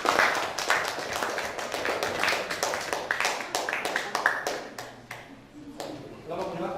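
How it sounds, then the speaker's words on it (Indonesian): Scattered clapping from a small audience in a teacher-training classroom session, a run of distinct sharp claps that thins out toward the end as a voice begins. "Tepuk tangan."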